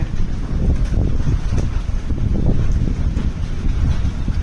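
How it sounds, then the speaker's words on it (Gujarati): Heavy wind rumbles and gusts continuously against the microphone during a change in weather with rain in Rajkot, a low, blustery roar that never lets up. "વરસાદ કરતાં પવન બહુ ઝાઝો છે"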